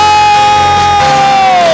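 A church congregation shouts loudly during a worship song at a revival service, a dense roar of voices over sustained music.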